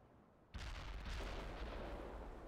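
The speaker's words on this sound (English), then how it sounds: "Commence artillery fire." An artillery barrage in the video game World in Conflict begins with a sudden loud, deep blast that rolls into a sustained heavy rumble of booming fire.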